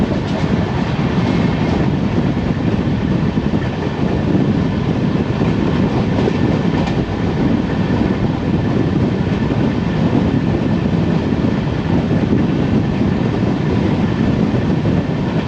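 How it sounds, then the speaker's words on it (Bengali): The Falaknuma Superfast Express, train 12703, runs at speed on rails, heard as a loud continuous roar with rhythmic wheel clatter from inside the carriage, steady throughout and without speech. "চলুন ট্রেন কিন্তু বেরিয়ে গেল বিশাখাপত্তনম রেলওয়ে জংশন"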